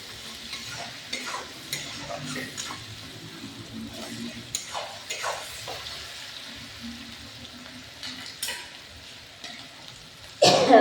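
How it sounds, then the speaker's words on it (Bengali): Onions frying in oil in a pan for a thin chicken curry with cauliflower, tomato and potato, giving a steady close sizzle with scraping stirs and a louder clatter near the end. "পেঁয়াজ লাল লাল ভেজে দিব"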